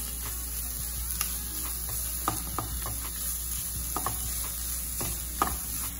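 Chopped onion sautéing in a pan, a steady low sizzle with irregular scrapes and clinks of a utensil stirring through it, close and fairly quiet, no voices.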